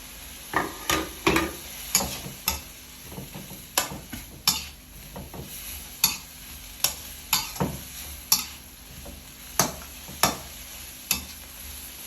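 Shrimp with home-grown holy basil is stir-fried in a pan, with a soft sizzle underneath sharp, regular spatula taps and scrapes that repeat every second or so, close up and without talk.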